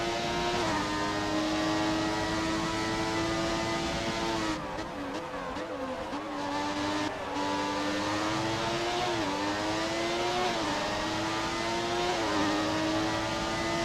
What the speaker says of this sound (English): Shame McLaren Hondas don't sound like this anymore.